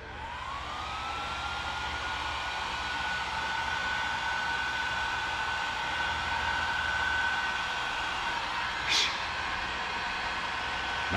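A heat gun set at about setting 5 blows steadily while drying thick drywall joint compound on a patched 6-inch hole, giving a continuous airy whine with a faint rising tone, close and alone.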